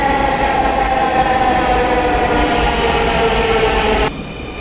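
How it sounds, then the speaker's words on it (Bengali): A metro rail train on the other side of the platform at a Dhaka metro station gives a loud, steady rumble with a tonal whine. It continues close by and then drops off sharply near the end. "আরেকটা ট্রেন চলে আসলো ওই পাশ থেকে"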